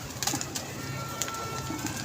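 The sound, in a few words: pigeon cooing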